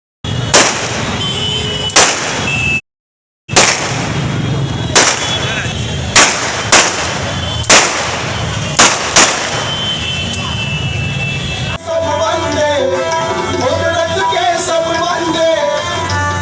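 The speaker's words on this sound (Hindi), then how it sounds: "आज यहाँ 32 फायर की राष्ट्रीय सलामी उधम सिंह जी को दी गई है।" A 32-gun national salute fired at a memorial ceremony honoring Udham Singh: loud, sharp blasts ring out one by one at irregular intervals of about a second or two, then give way to a steady outdoor hubbub with voices.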